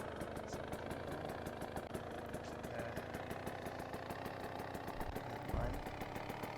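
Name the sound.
Go-kart vehicle engine idling in Roblox video game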